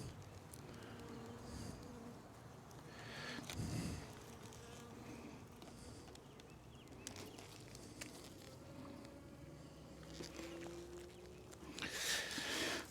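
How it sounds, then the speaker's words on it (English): Honey bees buzz around a brood frame during a hive split, a faint steady drone with occasional louder swells, along with scattered handling knocks and rustles. "See if I can knock some of these bees into"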